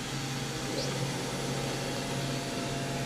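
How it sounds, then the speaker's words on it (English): A CNC machine spindle running at 1200 RPM, a steady, even mechanical hum and whir with a constant tonal drone, unbroken and moderately loud throughout. "Then we are going to turn the spindle on."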